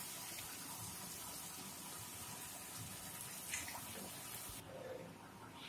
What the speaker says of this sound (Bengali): এই মশলা ধোয়া যে জলটা সেটা আমি দিচ্ছি।